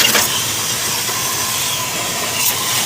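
A hose or pressure sprayer sprays water in a steady, loud hiss to wash a motorcycle, continuous for the whole stretch with no voices.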